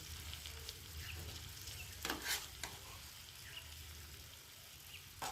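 Katla fish in a thick curd and cashew masala is stirred in a pan, giving a quiet, steady sizzle with a few soft scraping strokes, low in level and without speech.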